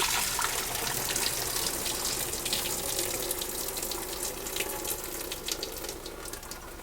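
Pasta water pours into a kitchen sink in a steady, continuous gushing rush that stays fairly close and moderate in level throughout, with no voices.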